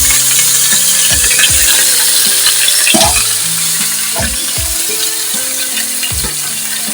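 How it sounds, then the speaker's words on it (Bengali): Pieces of pointed gourd sizzle loudly in hot oil in a wok, with a constant frying hiss and several scraping strokes of a spatula stirring them. "পটলগুলো দিয়ে দিলাম কড়াইতে"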